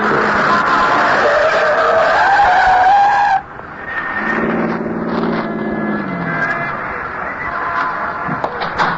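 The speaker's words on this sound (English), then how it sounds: "A yellow taxi spins around the corner at 103rd and West End and settles to a stop astride a brown snowbank" A yellow taxi skids around a snowy, slushy street corner and slows to a stop against a snowbank, a loud sustained tire squeal for about three seconds, then quieter rumbling and squeaking as it settles.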